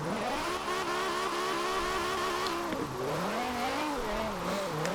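V10 engine swapped into a BMW Z4 Roadster driving with no roof in Forza Horizon 4, revving hard and close with rising and falling pitch, a brief dip near the middle before climbing again, loud and continuous.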